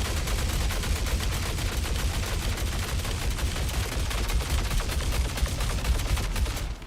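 A gun in the space game Star Citizen firing steadily and repeatedly, a continuous dense stream of loud, evenly spaced shots that runs without pause.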